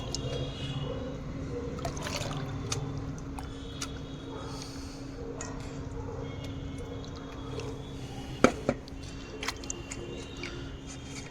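Water is poured and mixed with rooting hormone in a faint, trickling stream under a low steady hum, with small splashes and a sharp clink near the end.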